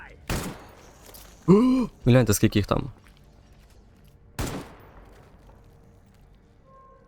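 Gunfire in the S.T.A.L.K.E.R. GAMMA shooter: a single sharp shot, then a rapid burst of several shots, then another lone shot, each crisp and close, with a voice speaking briefly between them.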